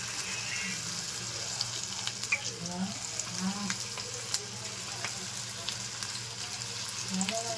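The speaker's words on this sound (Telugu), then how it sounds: "పునుగు వేసేటప్పుడు హై ఫ్లేమ్లో పెట్టుకొని వేసుకోవాలండి వేయించేటప్పుడు సిమ్లో పెట్టుకొని మీడియంగా పెట్టుకొని వేయించుకోవాలి" Punugulu fritters made from leftover idli batter frying in hot oil, a steady close sizzle and bubbling with occasional stirring clinks throughout.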